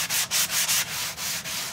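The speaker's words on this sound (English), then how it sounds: "so to get this started, I'm just gonna lightly sand it" A sanding block rubs back and forth over an unfinished wooden tray in steady, rhythmic strokes, close and fairly quiet, with brief pauses between passes and no voices.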